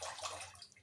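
Water drains and trickles from food set in a mesh strainer, a steady close wash of splashing hiss lasting under a second with no voices.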